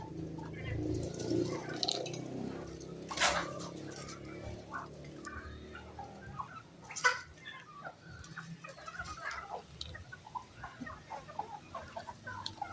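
Backyard pet chickens clucking during feeding, a cluster of close soft clucks and short calls scattered irregularly over quiet surroundings, with a couple of sharper louder squawks.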